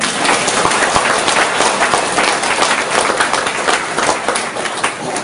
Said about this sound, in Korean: 자, 우리 수원교회 식구님들 스스로를 위해서 박수 한번 하겠습니다.